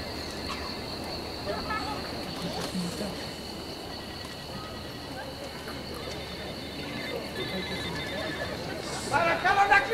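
A mobile phone rings in the audience at the ancient theatre of Epidaurus during a performance of Aristophanes' Wealth. A faint, thin electronic tone persists over a constant murmur of crowd chatter.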